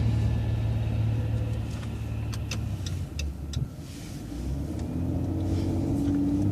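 A city express bus drives along and takes a left turn onto a medical center drive, its engine a steady close rumble with a slight rise in revs midway and no talk.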